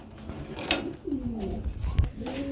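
Pigeons at a pigeon sale cooing close by, a few soft, throaty rolling coos in quick succession over a murmuring background.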